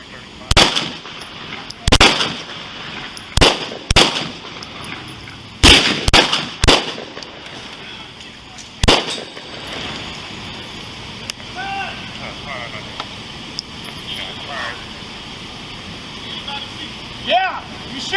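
Gunfire erupts during a Houston police shootout: about eight loud, sharp shots in irregular bursts, followed by a quieter stretch of background noise and voices.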